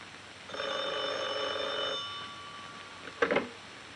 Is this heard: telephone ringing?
yes